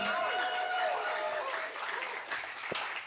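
Applause from an audience at an Astronomy on Tap talk night in Seattle honoring two speakers, a dense sustained crowd clapping that fills the room, fading slightly after the midpoint with a sharp nearby clap near the end.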